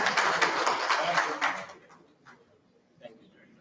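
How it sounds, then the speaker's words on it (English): Brief applause from a conference audience at a public sector summit for Dr. Shahid, fairly dense for about a second and a half, then quickly fading to quiet with a few stray claps. "A big round of applause for Dr."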